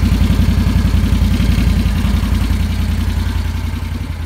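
A Land Rover Defender engine with stock exhaust idles close by with a steady, rhythmic low rumble that fades slightly toward the end.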